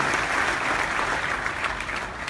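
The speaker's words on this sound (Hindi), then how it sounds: "मैं चाहता हूँ अपने ओबी सर के लिए जोरदार तालियां" An audience gives loud, steady applause at a success-story event in India, a dense continuous wash of clapping with no speech over it.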